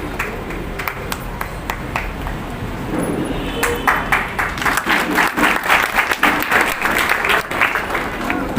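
An audience at a convent school investiture ceremony breaks into loud, sustained applause for a class rank holder, the clapping swelling and continuing steadily, with brief voices heard at the start.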